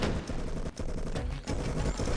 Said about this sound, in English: I'm getting shot by my own dudes